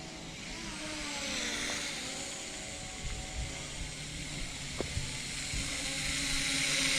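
Small iBase H816H toy quadcopter drone flying, a steady buzzing whine of tiny propellers holding altitude nearby, continuous and fairly even in loudness throughout with a few faint clicks, no voices.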